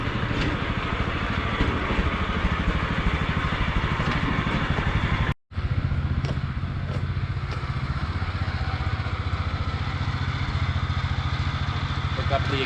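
An Oliver Super 55 tractor engine, freshly bought at auction, runs close and loud with a steady chugging beat, cutting out for a split second midway before picking straight back up.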